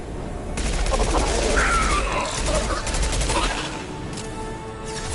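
Gunfire in the sci-fi shooter Mass Effect 2, loud sustained bursts of rapid shots with a whining energy tone in the middle, fading to scattered shots near the end.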